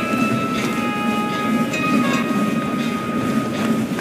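A train passes in the Roblox Western game The Wild West, giving a loud, continuous rumble with a metallic whine and faint rhythmic clatter, steady throughout with no talking.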